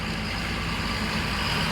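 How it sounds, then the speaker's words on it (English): A tractor engine rumbles steadily nearby on a country lane, a loud low throbbing drone that holds constant with no talk. "And we do have a tractor coming."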